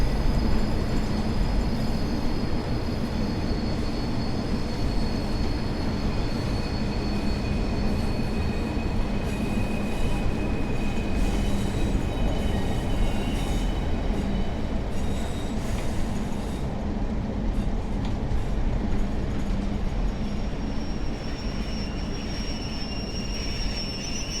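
A simulated train on the Blackpool branch lines in Train Sim World 5 runs steadily, a loud continuous rumble of wheels and motors with faint high squealing tones, unbroken and constant for the whole stretch.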